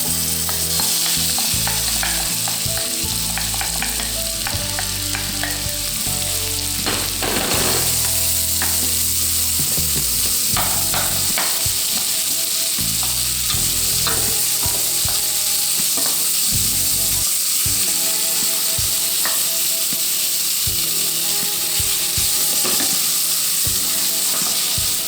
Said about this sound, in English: So we're going to cook the onions until they're a little bit transparent.